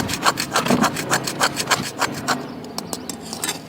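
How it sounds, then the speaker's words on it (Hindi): A hand tool scrapes residue off a surface in a rapid series of rough rasping strokes, about a dozen close, loud scrapes in a steady rhythm before the strokes thin out. "इसको अच्छे तरीके के साथ खुरच के उतार लेते हैं।"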